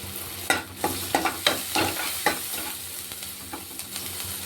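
Chopped onions with turmeric sizzle and fry in a pan while a spoon stirs in quick irregular strokes, close and fairly loud with no talking.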